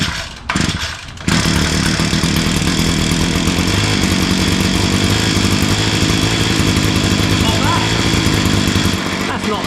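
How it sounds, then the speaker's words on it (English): A small pull-start engine catches on its very first startup after a few brief rattles, then settles into a loud, steady, buzzing idle that runs close and unbroken to the end. "as that is its very first startup, I'm just going to let it idle for a little bit"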